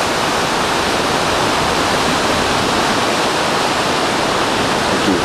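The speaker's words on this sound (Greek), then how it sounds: "Οπ, καταράκτες το ακούγεται." A waterfall pours steadily beside an old single-arch stone bridge in a rocky gorge, a loud, close, unbroken broadband rush of falling water with no voices over it.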